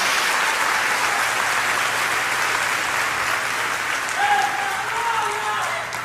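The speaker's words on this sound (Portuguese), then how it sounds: "Dá uma salva de palmas ao Senhor, querido." Church congregation applauding, a broad sustained roar of many hands clapping from a sizable crowd, steady throughout with a faint voice rising briefly near the end.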